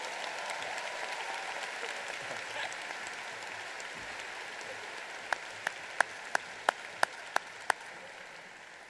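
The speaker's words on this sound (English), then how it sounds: "How about one more round of applause for Maddie, Cecilia, and Jack?" Graduation audience applause for the class of 2023 ceremony, a steady moderate wash of many hands clapping that holds throughout, with a few sharper individual claps standing out near the end.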